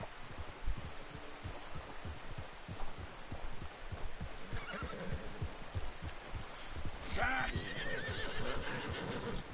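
A horse in Red Dead Redemption 2, a shrill whinny rising near the end over steady thudding hoofbeats and rustling, with a voice talking faintly.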